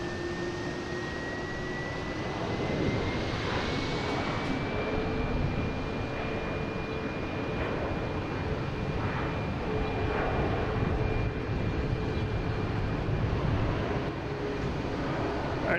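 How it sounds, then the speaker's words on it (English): An Aeromexico airliner from Mexico City arrives at Boston Logan, its jet engines a steady broad roar at a distance with a sustained whine that slowly drifts, continuous throughout. "That's our Aeromexico coming in"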